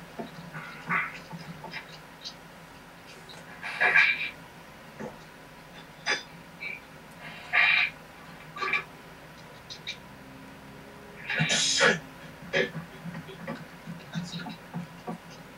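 A man on a live webcam broadcast imitates a dog, giving a few short, rough bark-like bursts spaced several seconds apart over low background noise.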